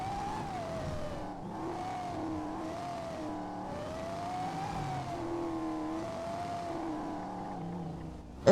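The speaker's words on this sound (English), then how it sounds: "I do not like how this truck sounds." A truck engine in GTA roleplay drones loud and steady, its pitch rising and falling with gear changes and revving over several seconds, ending in a sudden sharp burst.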